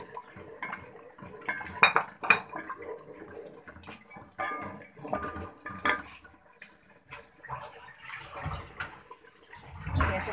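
Cardamom and cinnamon powder being sautéed in a pot, heard as a spoon scraping and clattering against the metal in an uneven, busy rhythm, with a soft hiss underneath and no voices.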